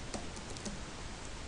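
Faint clicks of typing on a computer keyboard to enter a Linux terminal command, a few quick soft keystrokes at close range with no talking.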